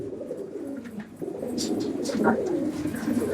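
Pigeons of an old lineage coo repeatedly in a Madrasi pigeon loft, soft rolling calls overlapping close by against a steady low murmur, with no talking.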